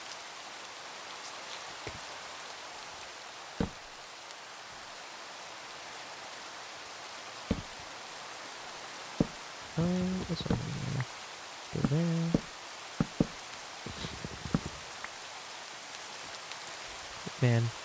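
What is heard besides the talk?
rain falling in a video game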